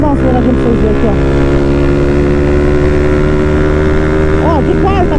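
A Honda CB 300 motorcycle engine pulling hard in fourth gear at high speed, a loud, steady, buzzing drone with strong harmonics throughout and faint wind noise.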